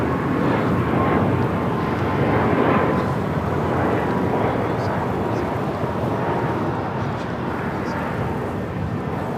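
A jet airplane taking off from the south side runways at LAX, a broad steady roar of engine noise that stays loud and constant throughout, with wind rumble on the microphone.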